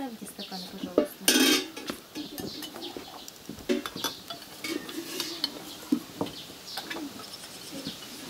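Drinking glasses are set down on a table at an outdoor camp, giving scattered clinks and knocks of glass and tableware, with faint voices and a bird cooing in the background.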